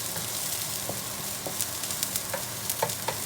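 Bagoong fried rice frying in a pan, with a steady dense sizzle and scattered scraping clicks of stirring, close and alone with no talk.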